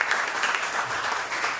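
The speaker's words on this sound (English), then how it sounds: "I want to give Brooks a round of applause for putting this series together" Audience applause for host Brooks Long at a Songster Series arts event at Creative Alliance, dense steady clapping from a crowd, fairly close and lively.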